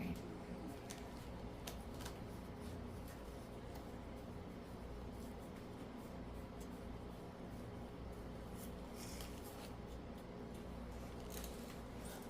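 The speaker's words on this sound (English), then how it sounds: "I'm going to take my scissors and give it a little trim there on the edges." Scissors trimming the edges of a spring DIY craft item, a run of small crisp snips and ticks scattered irregularly and close up against a quiet background hum.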